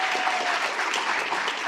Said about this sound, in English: Let's give a round of applause to this group.